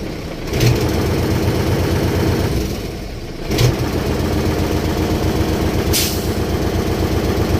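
A large engine idles with a steady, low rumbling throb during alternator wiring repair and charging tests, broken by three short, sharp hissing bursts of air.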